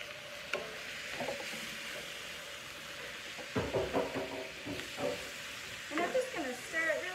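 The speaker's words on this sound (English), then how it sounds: "I'm just going to stir it really good and make sure it's nice and mixed" A spoon stirs black beans into a sweet potato quesadilla filling in a pan, with soft scraping and a low sizzle underneath, the stirring strokes growing more distinct toward the end while someone talks.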